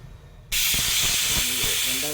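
A pressure cooker on a stove lets out a loud, steady steam hiss while rice cooks, starting abruptly after a brief quiet moment and continuing without a break.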